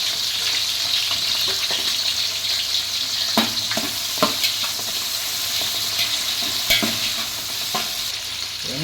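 Onions and green chillies frying in a large pot for a charity meal, a loud continuous sizzle with repeated scraping strokes of a big ladle and a faint trickle of water behind, no talking.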